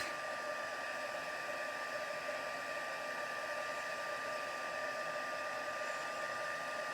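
A heat tool blows steadily to melt clear embossing powder on a papercraft card, a constant airy whoosh that fills the whole stretch, close and unbroken, with no talking over it.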